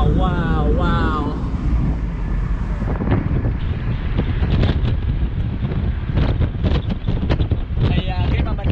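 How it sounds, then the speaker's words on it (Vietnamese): Strong, loud wind roars past an open-top Mazda MX-5 convertible on a US highway, buffeting the microphone continuously while people talk over it. "Gió nó thổi rất là mạnh nè."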